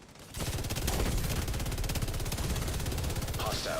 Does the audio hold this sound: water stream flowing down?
no